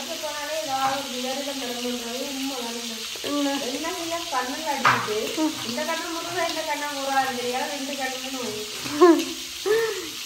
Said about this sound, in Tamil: இப்போ நல்லா பொரிஞ்சு கொண்டு வார